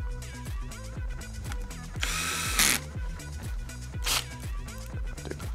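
Power drill driving the four screws of the top cover on a Rhodan trolling motor lower unit, with a rapid ratcheting clutch chatter and two sharp high whirring bursts, close and steady.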